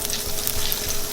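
Olive oil and butter sizzle in a frying pan as a BLT sandwich is cooked, a steady, even hiss heard close up with no talking.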